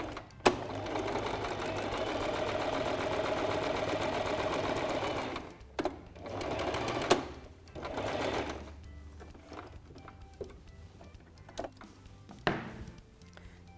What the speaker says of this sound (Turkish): Üçüncü pilimi de dikiyorum.